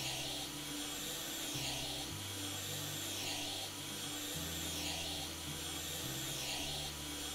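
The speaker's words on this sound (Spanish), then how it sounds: "Vale, es como una aspiradora vaporeta." A steam vacuum cleans a window in the video game House Flipper, giving a steady, loud whirring hum with rubbing, shifting tones that step up and down as it moves across the glass.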